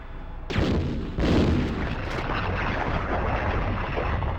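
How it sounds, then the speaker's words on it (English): Heavy booming shots from a grenade launcher in the Nintendo 64 port of Resident Evil 2, two loud blasts close together followed by a long rumbling, echoing tail, with no talk. "Old Faithful, the grenade launcher with 100 rounds"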